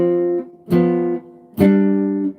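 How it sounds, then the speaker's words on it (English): Guitar playing jazz shell voicings, two-note chords sounded over a low bass line, three sustained strikes in a row, close and loud with no talking. "I'm just playing 2 notes actually with the bass line on the bottom."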